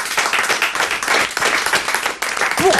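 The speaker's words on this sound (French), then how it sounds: "On vous applaudit tous les deux." A studio audience at a French radio talk show claps loudly and briskly for a few seconds, a dense burst of hand claps with a brief dip before resuming.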